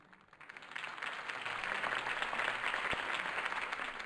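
A video game crowd in Batman: The Telltale Series breaks into sustained applause and cheering that swells and holds at full volume, sounding large and a little distant.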